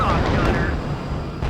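Munitions dropped by an A-10 aircraft in the strategy game WARNO: dense rumbling explosions and gunfire-like bursts fill the brief stretch at steady loudness, with game voice chatter mixed in.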